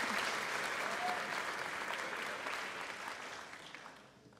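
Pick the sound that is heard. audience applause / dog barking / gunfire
audience applause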